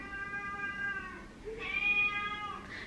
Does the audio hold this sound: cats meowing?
yes